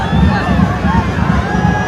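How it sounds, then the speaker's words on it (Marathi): Dense festival crowd at a goddess Ekvira palanquin procession in Panvel, a steady loud hubbub of many voices with scattered cheers and shouts throughout, close and enveloping. "गर्दी बघा गर्दी."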